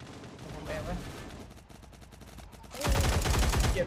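A boss firing a grenade launcher at a shield in Cyber Hunter: rapid repeated impacts that swell into a louder dense barrage near the end, with steady game noise underneath.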